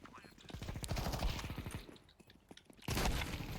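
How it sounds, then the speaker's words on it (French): Rapid gunfire crackles in Counter-Strike 2, a dense run of quick shots that fades into a short lull before a final loud burst, with a voice speaking over parts of it. "j'ai mis une balle de pompe"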